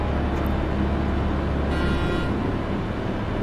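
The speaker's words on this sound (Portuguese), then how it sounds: "Maneiro buzinar dentro do túnel." In Euro Truck Simulator 2, the horn of a damaged 2009 Volvo FH16 truck sounds inside a tunnel, a steady honk held over constant loud engine and road rumble that echoes slightly.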